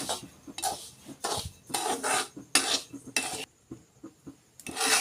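Semolina roasting in ghee for sheera, stirred in a pan with a metal spoon: close scraping, rasping strokes and clinks come in irregular bursts, with brief quiet gaps between them.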